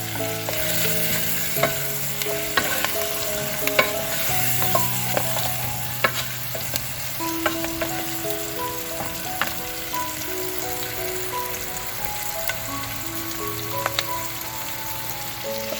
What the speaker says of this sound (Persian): گوشت و پیاز رو با هم دیگه تفت میدیم